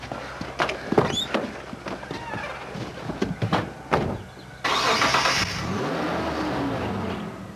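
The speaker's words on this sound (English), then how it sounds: "I heard my car start up and I could see that he was reversing out." A car engine cranks and fires up after some scuffling and knocks. It settles into a loud, steady running rumble as the car begins to reverse, and no one speaks.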